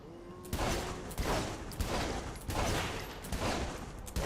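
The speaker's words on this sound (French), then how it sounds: "En fait, non, celui-là, je crois que c'est des balles explosives." Explosive-round gunfire in a video game, delivered as loud, dense bursts of blasts repeating at short, fairly regular intervals with no pause between volleys.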